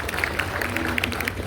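A class claps hands in a crowded room, a quick, dense patter of many claps mixed with voices and murmur.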